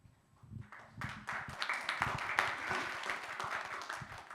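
Audience applause at a primary-care policy conference, starting faint, then swelling into sustained clapping that fills the room, heard fairly distant.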